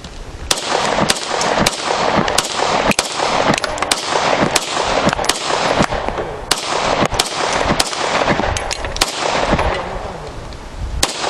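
A Ruger P89 pistol is fired in a steady string of around twenty sharp, loud shots, closely and evenly spaced, with crisp echoing cracks and no talking.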